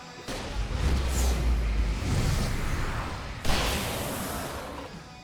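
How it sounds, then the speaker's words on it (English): Fireworks go off in the horror action game Alan Wake Remastered: loud booming blasts with a rumbling low end and a sharp whooshing burst partway through, dense and sustained. "I can set off more of the fireworks from here and help you out!"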